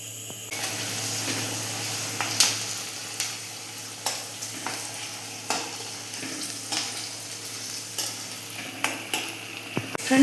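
Onion tempering sizzling in oil in a pan while being stirred, with a soft continuous fry and repeated scraping and tapping of a utensil against the pan.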